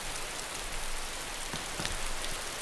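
Rain falls in the early alpha of the DayZ video game, a steady even hiss of drops with a few sharper taps, constant throughout and heard alone without talk.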